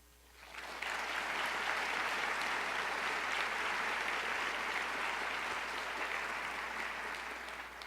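A seated audience at a talk about judges and judicial independence bursts into applause, a dense, steady clapping that swells quickly and holds at an even level for several seconds, with no talking over it.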